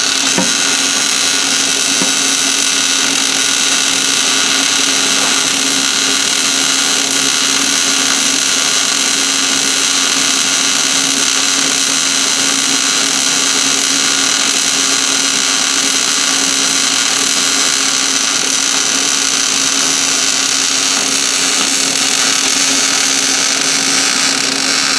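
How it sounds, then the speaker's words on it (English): Continuous, loud, dense crackling buzz of short-circuit GMAW MIG welding on a steel T-joint in the 3F vertical position, steady and unbroken throughout with no voices. "hopefully you can see my technique while I'm welding here"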